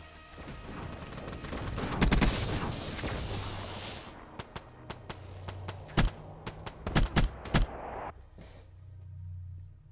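Mobile artillery firing in a multiplayer zombie shooter game: a heavy rumbling barrage at first, then a scatter of sharp separate blasts and cracks arriving at irregular intervals, loud and close.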